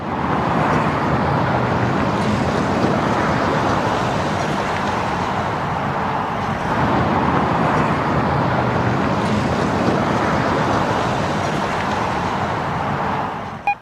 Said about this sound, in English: You can hear a little bit of an exhaust note.